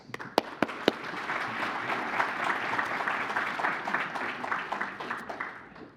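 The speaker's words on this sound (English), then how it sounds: "Round of applause, please." An audience applauds at a Wilkes County Hall of Fame award ceremony, opening with a few sharp, distinct claps before swelling into steady, sustained clapping that fades slightly toward the end.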